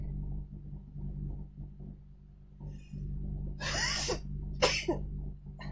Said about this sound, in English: I'm going to sneeze, you guys.